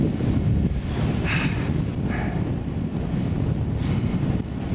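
Strong winter wind on Dartmoor near Oke Tor buffeting the microphone in low, rumbling gusts that swell and ease, with brief brighter hissy bursts.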